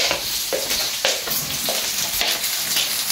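Fish dropped into a pot of boiling fish curry, a loud wet sizzle and bubbling with repeated splashy bursts as pieces go in, close and continuous.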